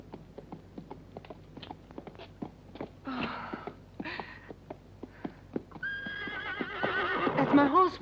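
A horse neighs loudly near the end of a scene from a 1965 Italian spaghetti western, following scattered hoof clip-clops and movement sounds, with a few brief shouts earlier on.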